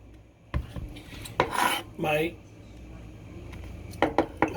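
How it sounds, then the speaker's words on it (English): Fresh cilantro is chopped with a knife on a board, giving a few distinct clatters and scraping strokes separated by quiet gaps, with a quick cluster of taps at the end. "Cilantro finally crushed up, finally chopped up."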